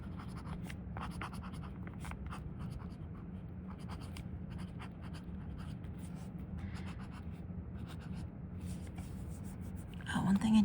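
A TWSBI Eco Fluorite Purple fountain pen with a stub nib scratching steadily across paper, a soft continuous rubbing with small strokes over a low background hum, close and faint, with a brief louder bump at the very end.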